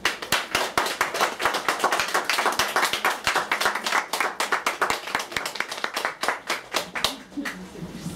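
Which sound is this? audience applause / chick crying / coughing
audience applause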